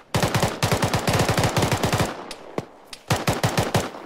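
Rapid machine gun fire in the Arma military shooter game, long sustained bursts of loud close automatic shots, a short lull with a few single cracks, then another burst.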